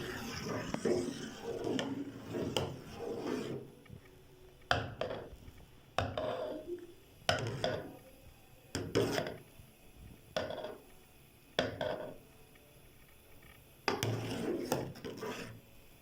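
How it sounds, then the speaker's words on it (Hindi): A spoon scrapes around a pot of desi ghee cooking over a low flame, making repeated rasping strokes in an uneven rhythm with short pauses between them, close and moderately loud. "और इसमें चम्मच हिलाना है।"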